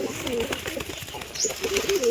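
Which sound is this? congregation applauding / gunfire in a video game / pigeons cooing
pigeons cooing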